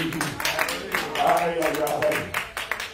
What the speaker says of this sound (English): Clap your hands and say, I believe him.